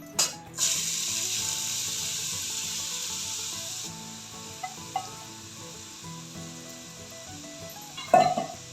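Grated carrot being stirred in ghee in a pan, a soft steady hiss and scraping rub at low volume, with a clunk of the spoon near the end.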